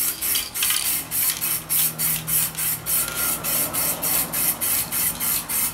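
Silver metalizer Plasti Dip spray hisses onto a wheel in a rapid, regular series of short bursts, about two per second, close and fairly loud with a faint background hum.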